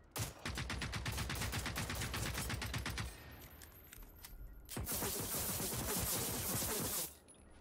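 Rapid automatic gunfire from the video game Generation Zero, a dense burst of close, loud shots that pauses briefly, then a second sustained barrage with a clattering edge.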